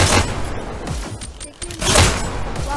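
Booming shotgun blasts in a multiplayer shooter video game, loud and dense in several bursts with a short lull midway, over gameplay noise.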